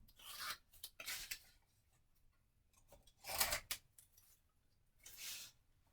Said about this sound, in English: Now I'll pull off the backing.